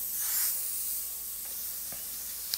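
A faint, steady airbrush hiss sprays paint during a beginner practice exercise, a soft continuous airy stream with a couple of small clicks near the end.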